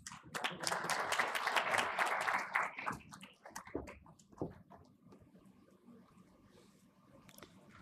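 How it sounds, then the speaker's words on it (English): An audience at a conference inaugural session applauds to welcome a speaker, a dense burst of clapping that swells for about three seconds, then thins out into scattered claps and fades. "Please welcome him with a round of applause."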